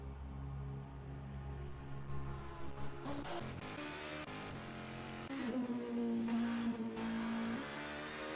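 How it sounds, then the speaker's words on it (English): A Porsche GTD race car's rear-mounted six-cylinder engine sweeps past at a Road America endurance race, a raspy rising wail that swells and then drops in pitch as it goes by, heard over steady track noise. "Much more raspy sound from the 6-cylinder in the back of that Porsche."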